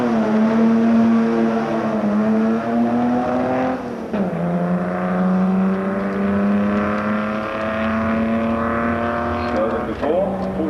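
A 1961 Porsche race car at the Brighton Speed Trials, its engine loud and near, climbing steadily through the gears with two clear shifts, the tone dropping and rising again as it accelerates hard.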